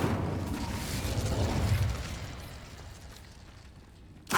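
A fire spell cast in the video game Hogwarts Legacy: a loud whooshing, roaring burst that swells over the first two seconds, then fades to a softer crackling rumble, with a sharp pop at the end.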